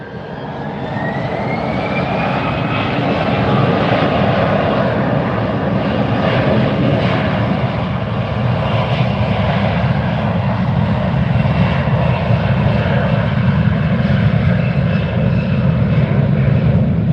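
A Douglas DC-3 propeller airliner taking off at Fort Lauderdale airport, a loud continuous piston-engine roar and propeller drone that holds steady throughout, heard from nearby with no talking.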